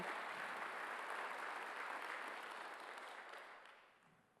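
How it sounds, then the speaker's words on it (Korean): A church congregation applauds during a Sunday worship service, a dense, even wash of clapping that starts loud and tapers away over a few seconds. "박수하세요."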